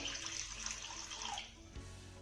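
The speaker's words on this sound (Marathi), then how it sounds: "आता यामध्ये आपल्याला एक ते दीड ग्लास पाणी घालायचं आहे" Water is poured into a kadhai set on a gas stove. A steady splashing rush lasts about a second and a half, then tapers into quieter trickling.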